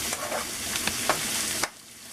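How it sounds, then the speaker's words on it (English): Home fries being stirred in a pan, with soft scraping strokes over a steady low sizzle that cuts out near the end. "Just keep stirring it up"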